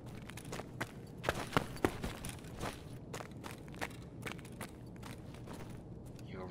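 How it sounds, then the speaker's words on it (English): Soft footsteps in the video game Escape From Tarkov fall in an uneven series of moderate, somewhat distant steps over a low game ambience, with a few sharper scuffs among them. "More footsteps."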